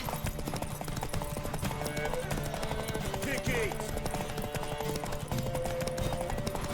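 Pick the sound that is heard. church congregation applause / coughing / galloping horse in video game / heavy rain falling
galloping horse in video game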